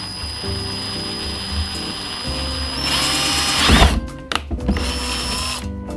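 Power drill boring a hole through a plastic cargo box for a DIY camping sink, a steady whine building to a loud grinding burst midway, then stopping and restarting in short bursts.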